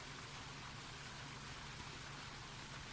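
Steady rainfall in the video game Rain Marginal, a continuous soft hiss of falling drops, even and unbroken throughout, with no voices.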